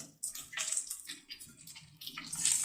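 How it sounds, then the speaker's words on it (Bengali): Mustard seeds, slit green chillies, curry leaves and white sesame sizzle in hot oil. The crackle is close and hissing, rising and falling in uneven bursts, with no talking. "ফোড়নটাকে একটুখানি ভেজে নিচ্ছি।"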